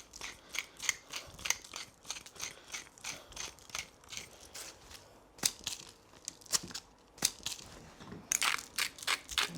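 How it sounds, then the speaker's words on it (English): Salt and pepper sprinkled onto raw pork chops of matching cut and thickness on a tray, heard as a steady run of close, crisp ticking and gritty crackles in quick bursts, with no talking. "we're gonna put a little salt and pepper on both sides"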